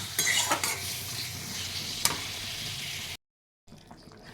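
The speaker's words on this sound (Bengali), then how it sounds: "এবার আমি পটল আলুগুলোও দিয়ে দিয়েছি দিয়ে একটু ভালো করে কষিয়ে" Potatoes and pointed gourd stir-fry in spice paste in a pan, a steady close sizzle with scraping stirs and a couple of utensil knocks, then a short silence and quieter frying.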